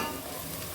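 Sliced onions fry and sizzle steadily in hot oil as they turn golden for a chicken biryani masala, a dense continuous crackle held close and alone.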